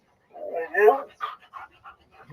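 A dog pants and whimpers close by in short bursts, with the breathy sounds tapering off after an initial louder stretch, amid a lively indoor gathering.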